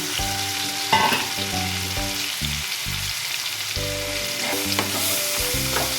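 Chili, onion and ginger sizzle steadily in hot oil, a loud and continuous frying hiss close by, with a short scrape of stirring early on. Sustained tones also run underneath, and no one speaks.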